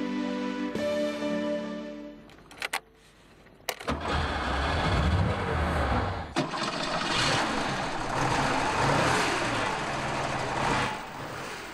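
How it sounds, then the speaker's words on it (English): Air-cooled engine of an early Targa sports car turns over and catches after a few seconds, then settles into a loud, steady, close-up running roar with no voices. "The air-cooled engine has an irresistible sound, a masterpiece of old-school engineering."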